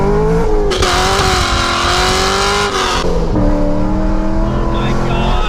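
A C6 Corvette Grand Sport's engine accelerates hard from inside the cabin, a loud rising roar climbing through the revs with a gear change partway, while people talk over it.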